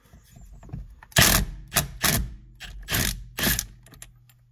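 An impact wrench works a 22 mm bolt on a 2007-2012 Hyundai Santa Fe during clock spring replacement, firing four or five loud, short rattling bursts separated by brief pauses, close up.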